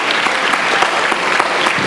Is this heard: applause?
yes